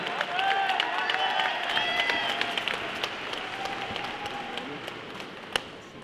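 Steady applause from a USO show audience fills the space, a dense wash of many hands clapping that holds fairly even for several seconds, with a brief louder spike near the end.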